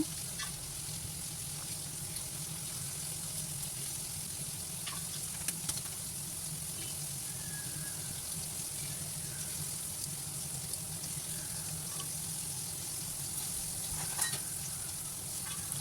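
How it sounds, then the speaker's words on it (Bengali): Potatoes frying in a pan, a steady soft sizzle that runs evenly throughout, close by with a few faint clinks and no talking. "এইদিকে আলুটা ভাজতে থাক"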